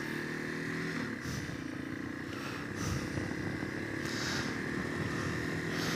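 A 2005 Yamaha XT225 motorcycle is ridden along a rural road, its small single-cylinder engine droning steadily under constant wind rush, with a few brief clunks and shifts in pitch and no talking.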